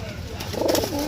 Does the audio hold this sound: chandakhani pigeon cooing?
yes